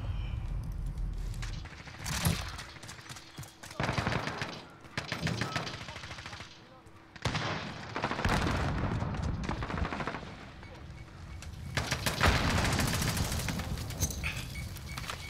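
A light machine gun in Modern Warfare fires long sustained bursts of rapid gunfire, loud and dense, broken by short pauses and mixed with other battle noise, with occasional voices underneath.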